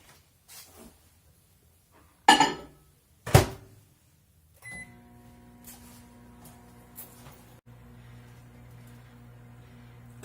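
A microwave oven heats water for simple syrup, opening with a few clicks and beeps, then settling into a steady low hum with a faint whine as it runs.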